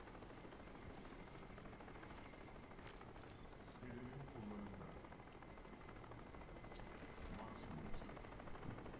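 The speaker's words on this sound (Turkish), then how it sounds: "Helikopter başa bela oldu." Helicopter in the video game Crysis, a steady dense rotor and engine drone filling the scene at moderate level, swelling slightly later on.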